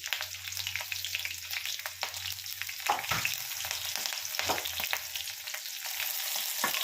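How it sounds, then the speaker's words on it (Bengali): Green chilies and five-spice seeds (panch phoron) crackle and sizzle in hot oil, a busy close spitting with sharp pops scattered throughout, no voices. "এখানে একটু তেলটা গরম হয়ে গেছে। কাঁচা লঙ্কা আর একটু 5 ফোড়ন দেবো।"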